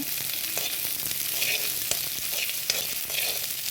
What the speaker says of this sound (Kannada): ಬೀನ್ಸ್ ಹಾಕಿ ಸ್ವಲ್ಪ ಫ್ರೈ ಮಾಡಿಕೊಂಡು